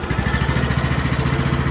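A Craftsman LT2000 riding lawn mower engine runs at a steady, close, rapid putter with an even pulsing rhythm throughout.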